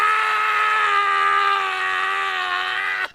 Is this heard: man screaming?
yes